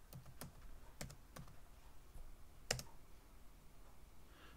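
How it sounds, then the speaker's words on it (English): Password typed on a computer keyboard running Linux Mint 21.3: a handful of sharp, separate key clicks spread over a few seconds, fairly close and quiet, with no talking. "we're going to press enter and put in your password, whatever your password might be"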